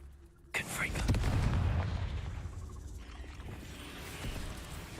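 A Confringo fire blast spell in Hogwarts Legacy, a sudden loud boom that bursts in and then rumbles on as a broad roaring tail that slowly fades.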